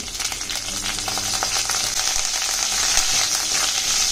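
Mustard seeds, cumin and curry leaves sizzle in hot oil for a Khandeshi vangyache bharit (baingan bharta) tempering, a steady, dense crackling hiss with small pops, close and loud throughout, with no voices.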